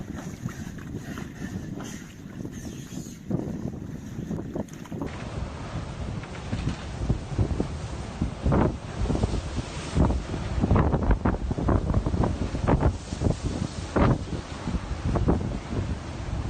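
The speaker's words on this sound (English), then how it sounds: "Storms have been raging in the Black Sea since Friday." Storm wind buffets the microphone on the Black Sea coast while heavy waves surge and crash in repeated rushing bursts, loud and close, growing rougher in the second half with no voices.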